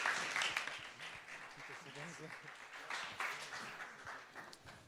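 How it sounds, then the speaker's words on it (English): Audience at a hackathon applauding a team, a fairly faint wash of scattered clapping that swells at the start and fades, with speech mixed in. "Please applause SmartRadio team."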